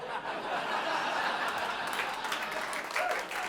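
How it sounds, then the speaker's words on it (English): A comedy special crowd applauds and chuckles, a dense wash of clapping mixed with scattered laughter, steady throughout. "I don't know if that's an applause for me or an applause you gave yourselves for working it out."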